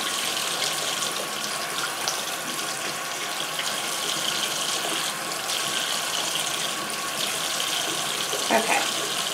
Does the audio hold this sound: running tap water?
yes